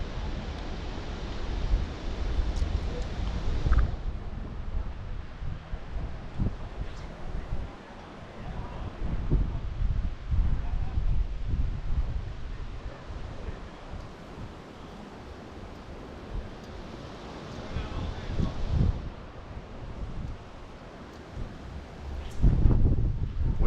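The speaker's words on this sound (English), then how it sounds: "Wind's starting to pick up now a little bit here." Wind gusts by a salmon river, rising and falling as a rough rushing that buffets the microphone, with a louder burst near the end.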